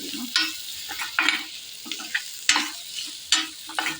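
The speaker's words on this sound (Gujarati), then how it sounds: "હવે આપણે આ બધો મસાલા મિક્સ કરી દઈશું બરાબર તેલમાં" Spice mix stirred into hot oil in a pan for a raw tomato curry, with a soft sizzle under repeated scraping strokes of a spoon at a steady rhythm, close by and with no voices.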